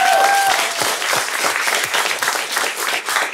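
Studio audience at a comedy quiz show applauding after a close contest, a dense, steady burst of many hands clapping close by, with a brief tonal tone at the start and no talk over it.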